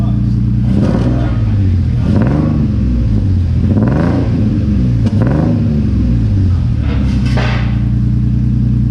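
A Nissan S13 fitted with a VQ engine and a new exhaust revs hard several times, each loud, close rev swelling and falling back to a deep steady idle rumble.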